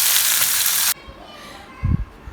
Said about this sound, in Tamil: பாறை மீன் வறுவல் ரெடி ஆகிடுச்சுப்பா